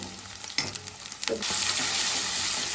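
Onions fry in hot oil toward browning, a close steady sizzle with a few stirring scrapes early on, then a dense continuous hiss with no talk.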